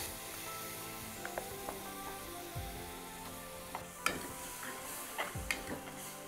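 Spinach paste going into roasted gram flour in a hot pan for Punjabi saag paneer, heard as a steady low sizzle with scattered clinks and scraping stirs of a spoon against the pan.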